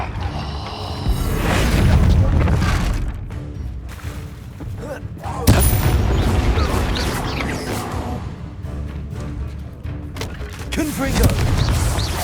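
Bombarda spell explosions in Hogwarts Legacy, a pair of heavy booming blasts with rumbling, crashing debris, the second striking suddenly midway and both trailing off in long low rumbles.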